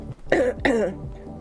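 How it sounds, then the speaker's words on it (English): A person clears their throat twice in quick succession, two close, raspy bursts at near range in an otherwise quiet room. "I'm gonna have to keep clearing my throat."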